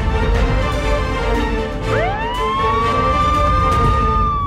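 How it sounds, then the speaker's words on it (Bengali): Police car siren in a Bengali TV drama, a rising wail that sweeps up and holds steady, heard loud over a dense background of other sound. "পুলিশের গাড়ির আওয়াজ মনে হলো।"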